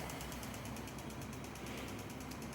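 A Maxkare treadmill's motor housing gives off a fast, rhythmic clicking over a steady mechanical hum while the belt runs at about 3 miles an hour.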